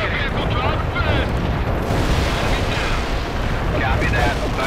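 Dense, roaring artillery barrage explosions in the real-time strategy game World in Conflict, a continuous loud rumble of blasts with voices talking over it.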